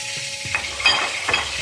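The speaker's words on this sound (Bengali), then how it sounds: "এরপরে এর মধ্যে আমি বড়িগুলোকেও ভেজে তুলে নেব।" Bori, small sun-dried lentil dumplings, frying in hot oil with a steady bright sizzle and a few soft clinks of a spatula or pan, no voices.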